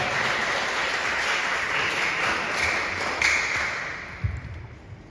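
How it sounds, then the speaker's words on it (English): Crowded clapping from an audience at a basic schools science and mathematics quiz in Ekumfi, dense and steady before thinning out near the end, where a single sharper tap stands out. "Let's clap for them."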